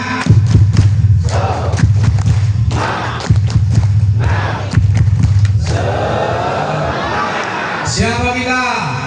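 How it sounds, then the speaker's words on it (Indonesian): A group performs rhythmic spirit clapping, with sharp, punchy claps in quick patterned bursts, followed by voices shouting together in a lively crowd. "tepuk semangat."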